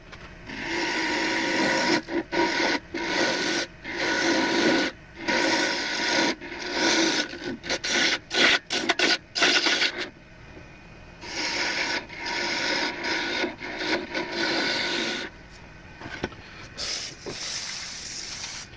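Hand chisel paring wood while shaping a dibble seedling planting tool, a steady run of rasping, scraping strokes close up with brief pauses between passes.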